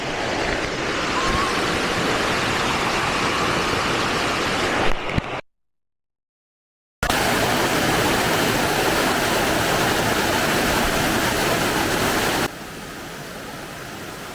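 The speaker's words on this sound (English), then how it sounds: "This is Abbe Waterfalls in this season. The water is full and is flowing very fast." Loud, steady roar of Abbe Falls near Sakleshpur in full flow, broadband rushing water that cuts out briefly, then returns at full strength and drops slightly at the end.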